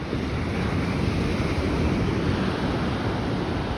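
Sea waves rolling onto a beach at Marsa Matruh on the Egyptian coast, a dense continuous surf roar mixed with strong wind buffeting the microphone, no voices.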